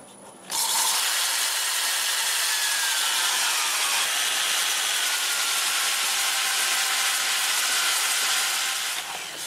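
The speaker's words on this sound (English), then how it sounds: "I'll sand it up through 400, with the lathe running forward at about 400 RPM." Sandpaper on a wooden bowl turning on a lathe at about 400 RPM gives a steady, loud, hissing rasp that starts abruptly and runs unbroken for about nine seconds.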